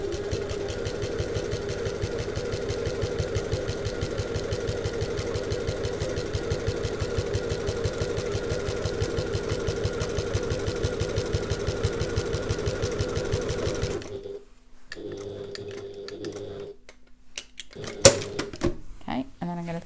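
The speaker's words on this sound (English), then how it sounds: "so now we're going to top stitch either side of the seam" A sewing machine topstitching along a handbag seam, a fast steady rhythmic needle chatter running for about fourteen seconds, then stopping, followed by handling clicks and fabric shuffling.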